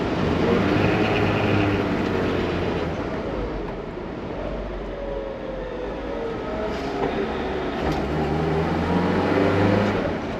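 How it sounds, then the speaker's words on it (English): A 1957 Mercedes-Benz 190SL slowing for a red light, with a steady low road and engine rumble under broad wind noise throughout and no voice. "Show you how the brakes work"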